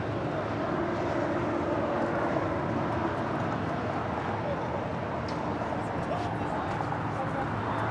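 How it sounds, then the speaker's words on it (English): A Korean Air Airbus A380 taking off from LAX, a continuous broad jet-engine roar holding steady and loud, with faint voices murmuring beneath it. "This is Korean Air Flight 18 Super taking off to Seoul on the A380."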